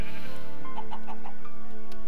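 A goat bleats in a survival video game, a few short wavering cries close together over steady background music-like tones, with no talk.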